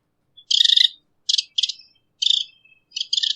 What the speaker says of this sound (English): there's some almost computerized artifacts on the sound of the bird